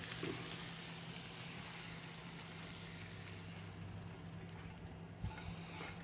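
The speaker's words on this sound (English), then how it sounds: "can you hear that sizzle? That's what we want." Steady, broadband crackling sizzle of shrimp frying in a hot pan, continuous and fairly quiet, with a faint low hum underneath.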